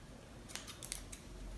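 Scissors snip thread on a recycled fabric yo-yo flower in a few quick, faint clicks spread over about a second, against a quiet background.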